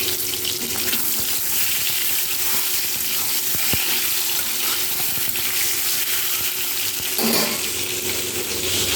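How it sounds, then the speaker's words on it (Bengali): Eggs fry in hot oil for an egg curry, giving a steady, close hissing sizzle throughout with a few soft pops and a brief clatter near the end. "তারপর একে একে ডিমগুলো কিন্তু আমি ভেজে নেব"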